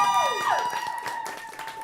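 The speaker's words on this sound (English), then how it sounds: "let's get an extra round of applause for our friend Jesse" Scattered hand claps patter in an Irish pub under a sustained musical tone with a falling electronic swoop, clapping moderate and somewhat thin.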